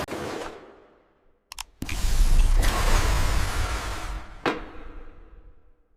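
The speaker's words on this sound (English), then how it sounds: "Vault doors cycle closed after each movement" Heavy vault doors in a gold bar factory cycle shut: a mechanical creak, then sharp clicks and a loud sliding rush that settles into a rumble before a final clack, close and clear with no voices.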